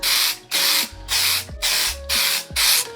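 Dry shampoo sprayed onto a synthetic wig in six steady hissing bursts of about half a second each, close and loud, with short pauses between them.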